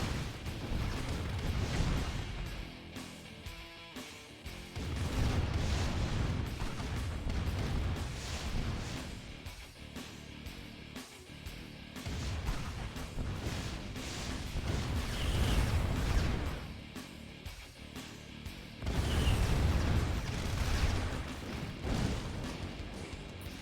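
Artillery fire in the real-time strategy game IronRush during a 4v4 battle, a steady barrage of booming shell bursts and impacts recurring in waves over continuous rumbling battle noise, fairly distant, with no talk.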